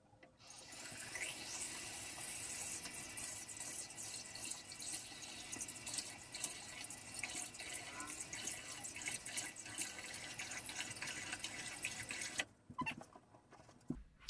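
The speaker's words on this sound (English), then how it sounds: "So I'm gonna try and be quick washing my face, but it's never that quick." A sink tap runs steadily for face washing, a close, continuous stream of water with splashing and drips that stops abruptly near the end.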